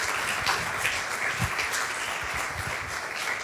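A church congregation gives sustained applause, a steady wash of many hands clapping at once with no voices standing out.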